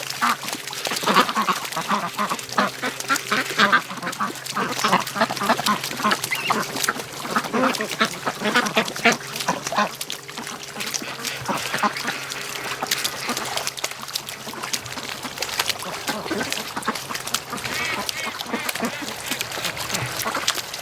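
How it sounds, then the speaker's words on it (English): White Muscovy ducks quack and flap as they take off and fly on a morning outing, with steady wingbeats and calls close by and continuous through the whole stretch. "big giant white ducks flying"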